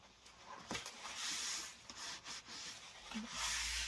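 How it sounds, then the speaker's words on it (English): Paper glued onto a junk journal page being rubbed down by hand, a soft, close, continuous brushing scrape in uneven strokes with a few brief bumps, no one talking. "I'm just going to just give that a little bit of a rub."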